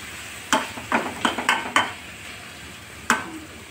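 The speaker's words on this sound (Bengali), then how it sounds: "একটু নেড়ে চেড়ে ভালো করে নেড়ে চেড়ে দিচ্ছি।" Liver frying in oil in a pan is stirred. A quick run of close scraping strokes sounds over a faint sizzle, then one last scrape after a short pause.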